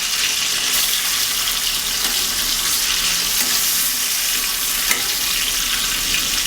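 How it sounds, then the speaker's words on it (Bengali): Katla fish pieces fry in hot oil with a loud, dense, continuous sizzle close by, steady throughout with a faint clink or two and no speech. "মাছগুলো সুন্দর করে ভাজা হয়ে আসলে"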